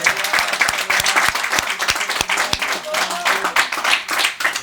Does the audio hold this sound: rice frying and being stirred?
no